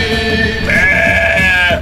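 Sheep bleating loudly and close, one sustained wavering call that swells in the middle and trails off near the end, heard alone.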